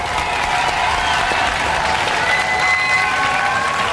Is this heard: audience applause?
yes